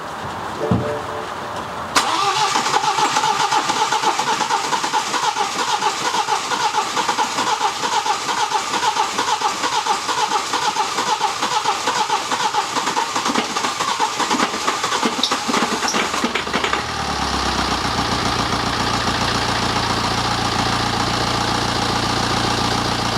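A diesel engine on a jump pack cranks with a rapid churning rhythm, then catches at about sixteen seconds and settles into a steady, loud idle, with no voices present.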